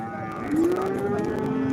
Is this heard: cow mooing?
yes